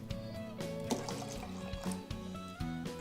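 Water pours into a ginger shot mixture of juiced ginger and honey, trickling and splashing steadily over faint background music.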